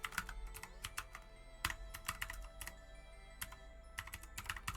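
Rapid, uneven typing on a computer keyboard while entering Pokémon names in a quiz, dense runs of crisp key clicks with brief gaps, close-miked and soft.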